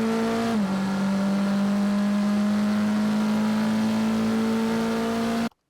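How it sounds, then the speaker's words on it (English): An NP01 EVO prototype race car on the Sonoma circuit gives a loud, close engine howl with a brief dip at a gear shift. It then holds a steady high-rev drone before cutting off abruptly. "very quick transition back to throttle here in the middle."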